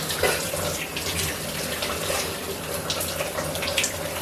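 Warm shower water sprays steadily onto a person during hydrotherapy, a continuous close hiss and patter of water with small splashy bursts throughout.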